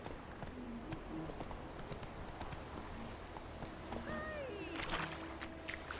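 Horse hooves gallop in The Witcher 3 with a steady clip-clop rhythm held throughout, mid-distance and moderately loud, with faint game ambience and brief tonal cues layered over the hoofbeats.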